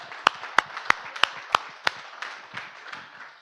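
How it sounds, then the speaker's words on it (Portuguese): A church congregation claps in praise: six evenly spaced sharp claps ring out at a steady beat, then soften into a looser, fainter scatter of applause. "Salve de palmas a Ele."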